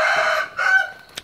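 A rooster crows loudly and close by at a Thai early-morning coffee stand, one long drawn-out crow followed by a shorter second call, with no talk over it.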